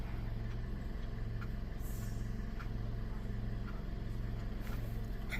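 A Toyota car, a Corolla Matrix, Camry or RAV4, idles in second gear during a transmission test, a steady low engine drone running evenly throughout with no talk.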